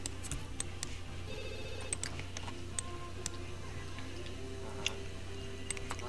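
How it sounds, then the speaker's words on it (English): A telephone rings in The Sims 3 video game, a quiet repeating electronic tone against a bed of soft ticks and clicks from the game. "Go ahead, answer the phone."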